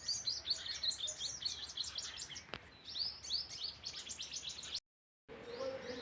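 Sparrows chirp in a busy, continuous chorus of quick high tweets outdoors on a winter morning, steady and fairly close, broken by a brief silent gap near the end.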